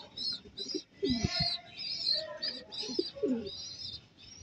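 Racing pigeons at the loft after a 60 km race from San Pablo, Laguna, cooing in repeated soft, rhythmic calls close by, with faint chirps and low background noise.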